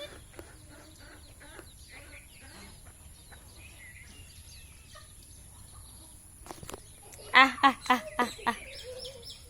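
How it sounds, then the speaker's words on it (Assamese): Chickens in a home poultry yard of about fifty birds, with faint scattered clucks at first, then a loud run of five or six close, rhythmic clucking calls near the end. "মোৰ লগত বৰ্তমান 50টা মান মুৰ্গী আছে"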